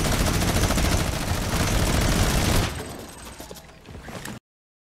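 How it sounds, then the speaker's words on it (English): Rapid video game gunfire from an online shooter match rattles loudly and continuously at first, then thins to scattered, quieter shots before cutting off. "Look, they're still shooting."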